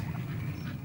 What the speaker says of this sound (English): You've never seen anything like a duck eat a slug